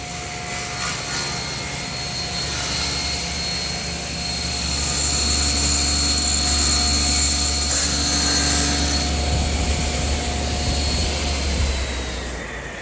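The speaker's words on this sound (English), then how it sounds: "Now that's the way to cut full sheets of plywood." A table saw whines steadily as it rips through a full sheet of plywood in a workshop. The drone runs loud and close for several seconds, swells as the blade bites through the cut, then eases off.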